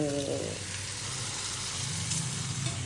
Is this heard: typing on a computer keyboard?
no